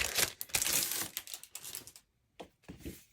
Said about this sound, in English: I'm sorry for the packaging noise.